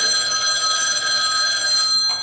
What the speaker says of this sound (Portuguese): O telefone toca.